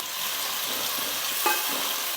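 Steady sizzling of two large, finely chopped onions frying in hot oil, with a brief stir midway, close and continuous with no voices.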